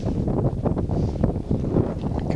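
Steady, loud wind buffets the microphone on a golf course on a windy June day, a constant low rumble with gusty swells and no speech.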